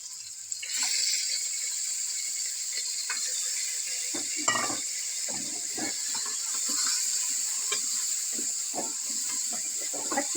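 Mutton frying with ginger and garlic in a pot gives a steady bright sizzle, broken by scattered clinks and scrapes of a spoon stirring against the metal.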